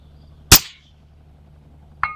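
A single loud, close crack from a rifle fitted with a braked suppressor, followed by a short fainter metallic tick about a second and a half later against a quiet background.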